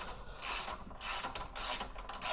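Ratchet wrench with a 10mm deep socket loosening a battery nut on a 2015–2021 Subaru WRX STI, giving several quick rasping ratchet bursts in a steady back-and-forth rhythm, close and with no talking.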